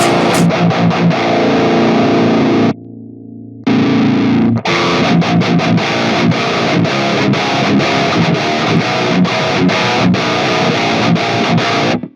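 Heavily distorted electric guitar through a preamp pedal chugs loudly, briefly dropping to a quieter tone before resuming dense, driven riffing with a gritty, crunchy edge.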